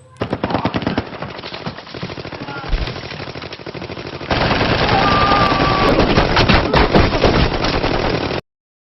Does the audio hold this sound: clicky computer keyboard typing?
no